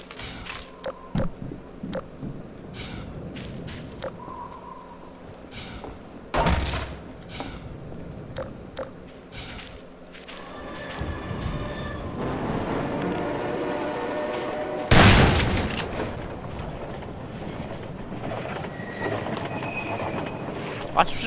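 Destructible scenery breaking and collapsing in Half-Life 2: scattered sharp cracks and thuds, a heavy crash near the middle and a loud collapse later, over a rushing windy rumble with someone talking at times.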